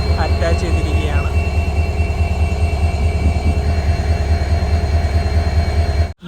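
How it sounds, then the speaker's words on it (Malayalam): A locomotive coupling onto the Ernakulam–Velankanni biweekly express at a railway station, heard as a loud, steady diesel rumble with faint clanks near the start, then an abrupt cutoff. "ലോക്കോമോട്ടീവ് അങ്ങനെ ഇവിടെ അറ്റാച്ച് ചെയ്തിരിക്കുകയാണ്"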